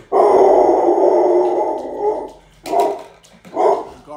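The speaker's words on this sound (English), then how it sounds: "Hey, little thing here is going to bark." A small guard dog lets out a long drawn growling bark followed by two shorter barks, close and loud.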